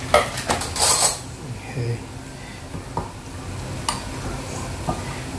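Chicken biryani being mixed in a pot, metal spoon clanking and scraping against the pan in a burst of loud strikes, then softer occasional knocks, with a brief spoken word.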